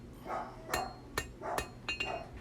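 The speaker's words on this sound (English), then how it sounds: "I'm knocking in, some people call it a shark fin on the blade" Sharp metallic hammer blows ring out one after another at a steady pace on a hot steel knife blade being hand forged, each strike followed by a short clanging resonance.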